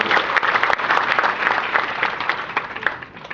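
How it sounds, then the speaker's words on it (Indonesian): A church congregation claps in a dense, sustained burst of applause that fills the room evenly, fading slightly at the close. "Beri tepuk tangan yang meriah bagi Tuhan."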